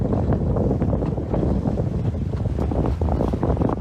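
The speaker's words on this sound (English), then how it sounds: "That was a nice wind, wasn't it?" Strong wind buffets the microphone aboard a small sailboat, a dense, gusty low rumble with rapid fluttering bursts filling the whole stretch without voices.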